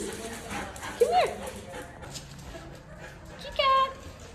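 An excited dog whimpers and yips twice in short high bursts at home before being taken to doggy daycare, close and fairly quiet, with a person talking softly around the sounds.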